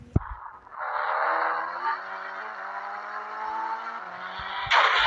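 A motorbike engine in the mobile game Indian Bike Driving 3D holds a steady synthetic drone that rises and shifts pitch slightly, then ends in a louder burst, with no talk.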